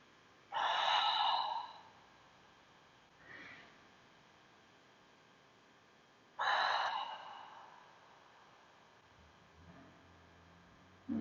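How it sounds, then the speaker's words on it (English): Slow, deep breathing during a resting yoga pose, with two long, soft breaths in through the nose and out, separated by quiet pauses, heard close and alone. "for 3 breaths, inhale deeply through your nose. Exhale"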